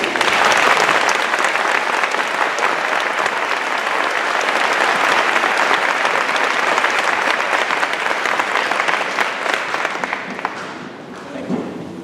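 Sustained audience applause at a middle school band concert in honor of students from the King County All-Star Band, a dense, steady wash of clapping filling the room for about ten seconds before tapering off.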